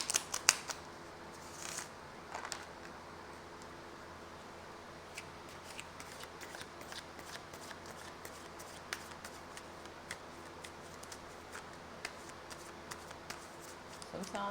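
Tarot cards shuffled by hand at close range, soft riffling and slapping bursts scattered over a quiet room tone, fairly faint with occasional sharper flicks.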